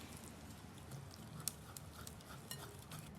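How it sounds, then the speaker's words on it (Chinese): Glutinous rice flour batter stirred in a bowl, giving soft, faint, wet swishing with a few light taps of the utensil against the side, close and quiet, with no talking. "一直给它搅拌至光滑细粒，像这样顺滑的面糊就可以了。"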